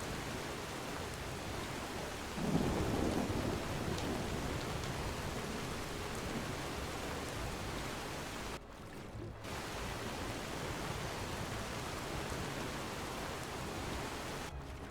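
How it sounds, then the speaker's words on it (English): Muffled rain heard from underwater in the video game Enderal, a steady soft hiss of falling rain, dull and distant, continuing throughout without voices. "you can actually hear, like, the muffled rain when you're underwater"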